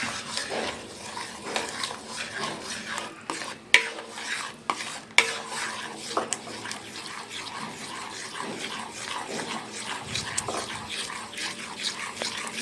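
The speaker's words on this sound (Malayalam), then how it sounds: "ഇനി നമുക്കിതിൽ നമ്മൾ ഉരുക്കി വെച്ച ശർക്കര പാവ് ഇതിലോട്ട് ഒഴിച്ചു കൊടുക്കാം." Ripe nendran banana mixture stirred with melted jaggery syrup in a pan on the stove, soft scraping strokes with faint sizzling and occasional clinks of the spoon against the pan.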